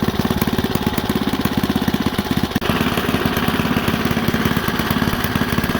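A small mini bike engine idles after a carburetor adjustment, running close up with a fast, steady chugging beat and a brief hiccup partway through before it settles.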